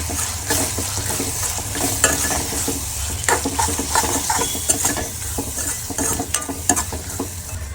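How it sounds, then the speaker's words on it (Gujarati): Chili powder and spices sizzle in a hot pan for palak paneer while a utensil scrapes and stirs in quick, repeated strokes, close and clear, with no talking. "આ નાખ્યા બાદ આપણે એને હવે મિક્સ કરી નાખીએ પાછું"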